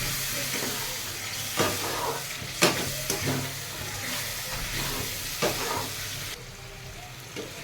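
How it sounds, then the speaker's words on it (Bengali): Raw jackfruit pieces sautéing with spices in a pan, a continuous close sizzle broken by several scraping stirs of a spatula. "এঁচড়গুলো দিয়েছি, দিয়ে এখন ভালো করে কষবো"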